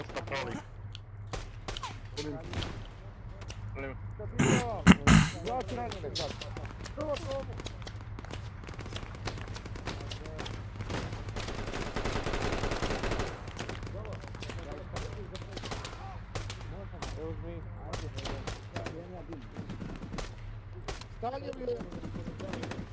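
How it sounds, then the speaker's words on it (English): A DShK heavy machine gun fires in Arma 3 combat: bursts of rapid gunfire crackle through the scene amid other shots, some sharp and close, with voices talking over the battle. "There's a Dushka firing on me."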